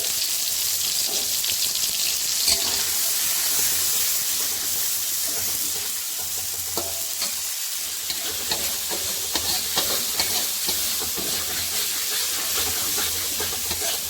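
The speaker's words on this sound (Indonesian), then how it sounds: "Lalu tumis bumbu yang sudah tadi dihaluskan ya" Ground spice paste sautés in four to five tablespoons of hot oil, giving a loud, continuous crackling sizzle with busy stirring scrapes throughout and a brief lull near the middle; no talking.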